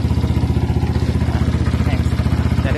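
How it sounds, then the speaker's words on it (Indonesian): A Yamaha Y15 motorcycle engine runs steadily at close range, with a rapid, even pulsing throb and a faint mechanical clatter throughout. No one speaks. "Kita dengar sikit enjin dia bunyi."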